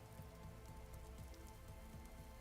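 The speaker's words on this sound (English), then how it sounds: "Wow, it's still raining." Steady rain patters continuously on surfaces in the Vintage Story video game, a soft, even hiss of falling drops with no voices over it.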